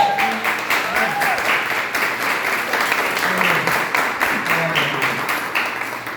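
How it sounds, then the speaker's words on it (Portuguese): Steady applause fills a Baptist church as the congregation claps through a service organizing the church, a sustained even patter of many hands with some voices mixed underneath. "Você pode aplaudir o Senhor?"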